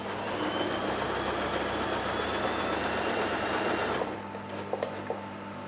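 A Janome J3-18 sewing machine runs a zigzag stitch in a fast, steady mechanical whir for about four seconds, then stops, leaving a few small clicks and handling taps.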